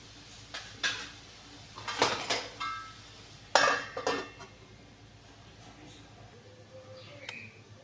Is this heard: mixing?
yes